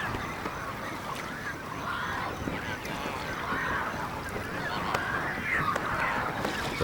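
A large flock of flamingos calls continuously at a shallow lake on a southern African pan, a dense, steady chorus of overlapping honking cries heard at a distance.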